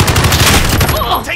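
Dense rapid gunfire from Call of Duty Modern Warfare rattles loud and close in a continuous burst, with no pause and no talk over it.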